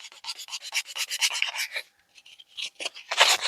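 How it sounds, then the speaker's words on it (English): Sandpaper-like scuffing over the shiny surface of a handmade journal cover: a quick series of short, rasping rubbing strokes up close, a brief pause, then another burst of scratchy strokes. "That's a shiny surface there, so I'm just going to scuff that up a little bit."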